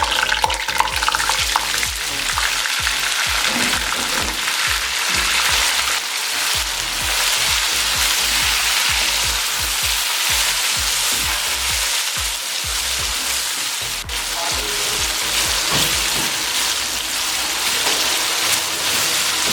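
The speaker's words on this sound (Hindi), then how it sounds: "अब ये सब चीज़ें शामिल करेंगे और 2 से 3 मिनट के लिए इसको हम फ्राई कर लेंगे।" Peas, potatoes and tomatoes fry with onions for vegetable pulao, a loud continuous sizzle with a rain-like hiss and rhythmic spoon scrapes stirring the pan.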